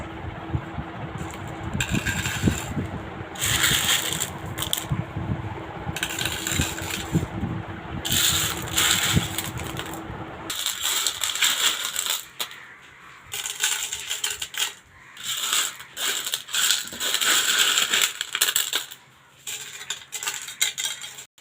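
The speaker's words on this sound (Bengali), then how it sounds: "এখন আপনার ভাইয়া মাছের ঘরের মধ্যে পাথরগুলো দিয়ে দিবে।" Washed stones for a fish tank tumbling and clattering as they are placed in, a long run of close, sharp clinks and rattles in bursts, with a brief pause midway and no talking.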